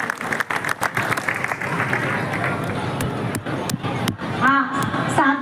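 Audience clapping at the Gyaan Ganga Mahotsav religious gathering, uneven bursts of hand claps mixed with crowd murmur, and a voice speaking near the end.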